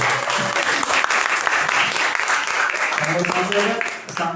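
An audience at a student association event in Samarinda gives a burst of sustained applause, dense clapping with crowd voices mixed in and a speaker's voice emerging near the end.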